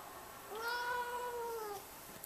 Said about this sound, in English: Cat's barking.